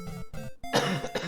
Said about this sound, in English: Still got a bit of a cough, sorry.